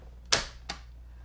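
Paper cut diagonally with a trimmer for a Stampin' Up! twist fold card: two quick, crisp swishing cuts a moment apart, close by, against quiet room tone.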